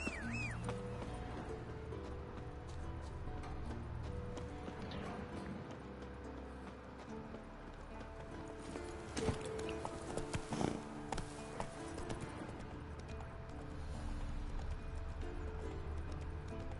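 Roach the horse gallops in The Witcher 3, a steady rhythmic clip-clop of hooves running continuously and fairly close, with game ambience underneath and no talking.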